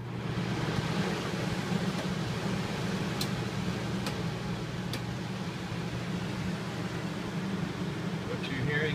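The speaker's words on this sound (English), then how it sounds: "What you're hearing is the air conditioner on low." Low, steady hiss and hum of a 13,500 BTU rooftop air conditioner running on its low setting in a 2020 Coachmen Apex Nano 187RB travel trailer, an even broadband drone lasting throughout with a few faint clicks.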